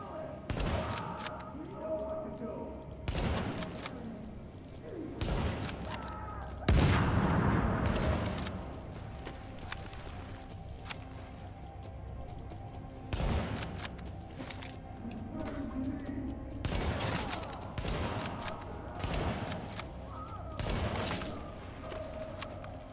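Scattered gunfire bursts crackle through a firefight in the video game The Division, shots popping in irregular clusters amid steady background game noise, with someone talking at times.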